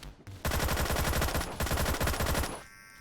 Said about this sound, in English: It feels really wrong to be using a TEC-9 semi-automatic because like the sound for it, it's nice, but it makes it sound really weak.